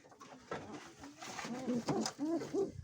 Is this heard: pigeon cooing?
yes